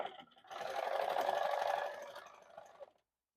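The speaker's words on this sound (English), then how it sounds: "just going to serge down each of these sides." A serger sewing machine runs steadily, overlocking the edges of fabric in a home sewing room. There is one continuous whirring burst of about two and a half seconds, close and clear, with no talking.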